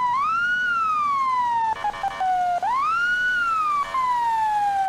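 A police car siren in the emergency-services game EmergeNYC wails in long rising and falling sweeps, loud and close, briefly interrupted by short clicks, with no talk over it.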